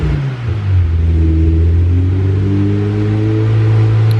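Turbocharged Honda Civic engine, running rich, revs up from idle into a loud, rising, sustained drone heard up close without speech.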